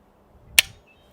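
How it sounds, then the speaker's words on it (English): Dry firing a rifle fitted with a Bushwhacker 46 silencer gives one sharp, close mechanical click that dies away quickly, alone in a quiet setting. "Okay, so that's the sound of dry firing."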